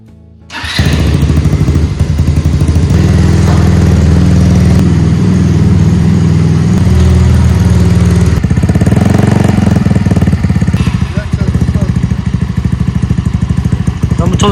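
A Kymco Agility 125 scooter with a modified carburetor starts and runs loud and close, a raspy buzzing engine note held steady at high revs with slight rises and dips, the exhaust pointed outward.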